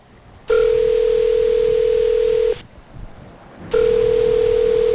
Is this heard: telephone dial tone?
yes